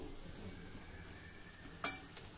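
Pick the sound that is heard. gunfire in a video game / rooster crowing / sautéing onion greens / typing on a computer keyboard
sautéing onion greens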